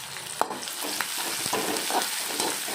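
Sliced onions frying in hot oil with a steady sizzle, stirred by a utensil that gives occasional scraping clicks against the pan, heard close and alone.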